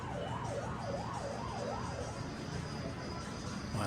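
A wailing ambulance siren from an Emergency Call Ambulance arcade video game rises and falls several times, layered over busy, steady arcade room noise.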